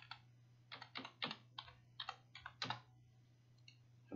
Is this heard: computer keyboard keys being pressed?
yes